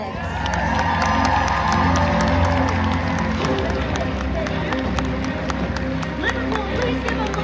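A packed Liverpool crowd at a Harry Potter cast panel erupts in loud, continuous cheering, whooping and shouting that holds steady for the whole stretch.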